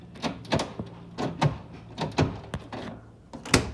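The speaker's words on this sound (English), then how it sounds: "when I lock and unlock the driver's door, as you can see across there," Central locking on a Nissan Micra K11 car, a run of faint clicks and clunks from the door locks as the driver's door is locked and unlocked, irregularly spaced and quiet.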